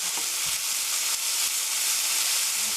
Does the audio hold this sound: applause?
no